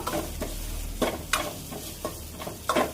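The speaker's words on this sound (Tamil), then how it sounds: "எல்லாத்தையும் ஒன்றா போட்டு சும்மா நம்ம லோ ஃப்ளேமில் வச்சு தான் ஃப்ரை பண்ணோம்ப்பா" Ginger and garlic frying together on a low flame for a Salem-style mutton curry, with repeated scraping stirs over a soft, steady sizzle, loud clattering strokes recurring about every second.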